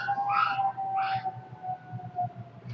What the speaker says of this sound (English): There's 2 chihuahuas here. My dog and then Megan's sister's dog